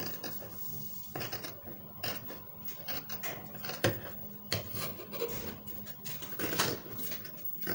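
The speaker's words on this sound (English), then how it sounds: "So I'm just going to cut through now." Scissors cut through fabric for a bodycon gown with a collar, giving quiet, close rasping and snipping sounds that continue unevenly throughout without any talking.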